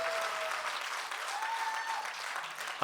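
Audience applause at a shayari poetry gathering, a dense even patter of many hands clapping throughout, ending with a sharp knock.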